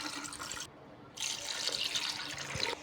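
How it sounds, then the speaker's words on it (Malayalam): Water splashes into a bowl of pathiri dough mixture in two close bursts of steady pouring with a short pause between, near and moderately loud. "ഇനി ആവശ്യത്തിന് വെള്ളം ചേർക്കാം."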